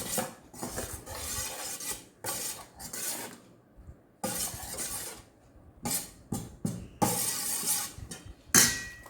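Milk and salt are worked into flour in a bowl for milk puttu, heard as irregular bursts of scraping and clinking of a spoon against the bowl, separated by brief quiet gaps, close and fairly loud, with no talking.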